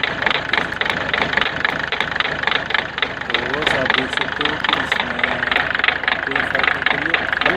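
A Ford Figo 1.4 TDCi diesel engine with a vibration problem idles close by with a steady, rhythmic clattering pulse that continues without a break.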